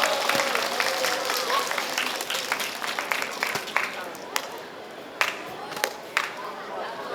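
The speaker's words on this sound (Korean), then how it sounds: "큰 박수로 환영해 주시기 바랍니다" Audience applause welcoming a Seoul education association representative and high-school Korean teacher on stage at a neighbourhood festival to save Songjeong Middle School, dense clapping that thins toward the end, with a few sharp claps standing out.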